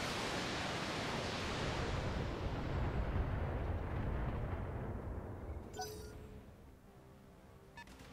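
Mech weapons fire in the Battletech beta during a medium support mech match, a long dense roaring barrage of blasts that stays loud, then thins out into a quieter rumble toward the end.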